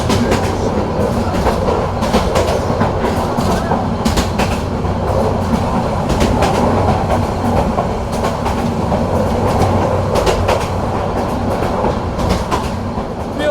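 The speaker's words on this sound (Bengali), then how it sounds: "train আন্তনগর Cox's Bazar express" Cox's Bazar Express, an intercity passenger train in Bangladesh, runs on meter-gauge track with a loud, continuous rumble and a steady rhythmic clickety-clack of wheels over rail joints, heard from on board.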